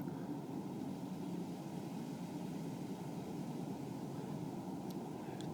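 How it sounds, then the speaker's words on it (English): A distant airplane circles over the area, a low, steady rumbling drone that holds without fading, far off but filling the background. "It's a plane just lurking around the area,"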